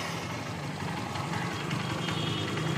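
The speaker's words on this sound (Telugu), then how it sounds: "ఇంజిన్ బీటింగ్ కానీ రన్నింగ్ కానీ చాలా అంటే చాలా స్మూత్గా ఉంది" A rebuilt Honda Unicorn motorcycle engine runs close by at a steady idle, a continuous, even mechanical hum and patter with no speech, holding at the same loudness throughout.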